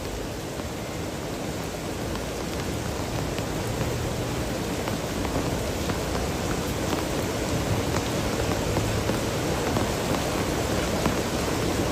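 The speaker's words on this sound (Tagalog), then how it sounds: "Tuloy-tuloy pa rin po yung buhos ng malakas na ulan." Heavy rain pours at night during flooding with the water level rising, a dense, steady broadband hiss that holds unbroken and even throughout, with no voices.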